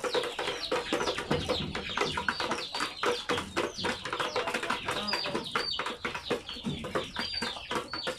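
Chickens and a large rooster, around three or four years old, clucking steadily in a backyard flock, dense overlapping calls close by with no talking.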